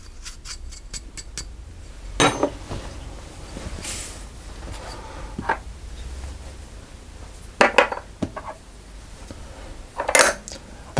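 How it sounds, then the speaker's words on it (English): Dry ingredients for banana oat drop scones, flour, oats, sugar, baking powder and salt, go into a bowl: scattered clinks and scrapes of utensils against the bowl, with a few louder knocks and rattles between quiet stretches. "So I'll put the dry ingredients first of all into a bowl."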